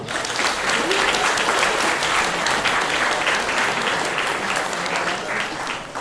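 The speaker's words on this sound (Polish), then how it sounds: "Proszę o brawa." Audience applause at an award ceremony of a CompuGroup Medical Polska users' convention, a loud, dense and even roar of many clapping hands sustained from start to finish.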